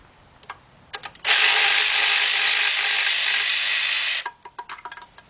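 A ratchet wrench loosens a timing cover bolt on a Chrysler engine: one loud, steady buzzing run of rapid clicks lasting about three seconds, framed by a few scattered tool clicks and clanks before and after.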